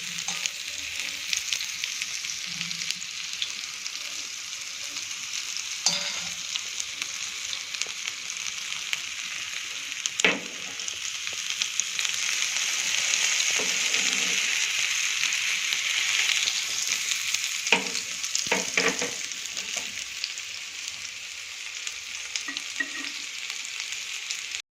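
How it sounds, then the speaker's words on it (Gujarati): Cauliflower florets frying in oil in a pan over a medium flame for a spicy masala snack, giving a steady close sizzle with occasional sharper pops and clicks from stirring or moving pieces, no voices. "જે આપણું ફ્લાવર એકદમ સારી રીતે ફ્રાય થઈ ગયું છે"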